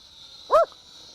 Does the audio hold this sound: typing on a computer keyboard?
no